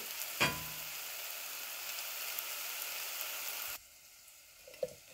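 Curry leaves dropped into a pan of chicken curry, an initial splash then steady close sizzling and frying that cuts off abruptly, followed by faint stirring.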